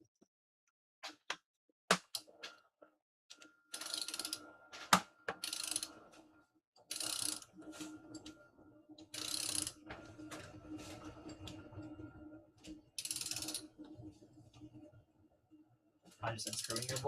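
A Ford Festiva 6-speed transmission is turned by hand on a bench, its gears giving intermittent ratcheting clicks and mechanical clatter in short bursts, fairly faint and close.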